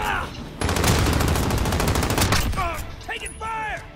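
Rapid automatic gunfire from Call of Duty: Modern Warfare comes as a dense, loud burst lasting about two seconds, followed by smaller pops and short voice-like sounds as it trails off.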